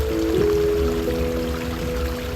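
Water from a garden pond waterfall spills over rocks in a steady, close, gentle trickling rush that holds an even level throughout, with no one speaking.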